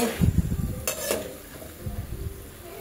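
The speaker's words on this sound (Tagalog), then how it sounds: "Gigigisa lang natin to." Rayos sag greens sautéed in a home pan, with stirring scrapes and clinks against the cookware over a soft, low sizzle, close and fairly quiet, with no talk.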